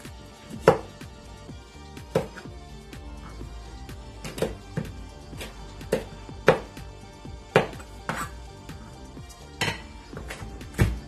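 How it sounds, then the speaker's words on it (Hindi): Green chilies are chopped finely with a knife, a series of crisp, evenly spaced chops on a board, close and clear with no voices. "इसको भी मैं बारीक चॉप करूंगी।"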